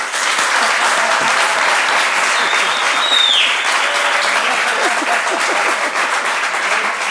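Sustained applause from a studio audience fills the whole stretch, steady dense clapping at full loudness with no voices on top.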